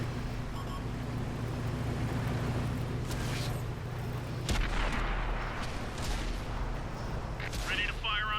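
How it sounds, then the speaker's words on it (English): Tank cannon fire in the World of Tanks video game, with a sharp heavy boom around the middle over a constant engine rumble and game ambience, and brief electronic cues near the end. "we're popping out, we're shooting"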